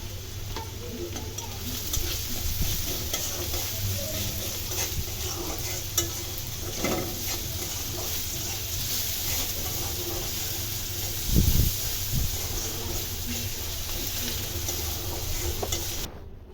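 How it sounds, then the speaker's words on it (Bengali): Oil sizzles steadily in a pan as chopped onions and cumin fry, with occasional scraping stirs and a clunk of a utensil partway through. "জিরা পেঁয়াজ কুচি দিয়ে ভালোভাবে ভেজে নিতে হবে"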